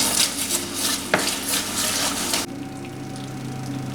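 Peking duck sauce made with soy sauce and sugar is stir-fried in a pan over low heat, giving a close continuous scraping and sizzling that stops abruptly, leaving a quiet steady hum.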